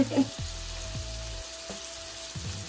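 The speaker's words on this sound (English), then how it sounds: "So we're going to get these a nice sear on each side." Big stuffed Juicy Lucy burger patties searing in a hot pan, a close, steady sizzle with a few soft bumps and scrapes as the meat settles.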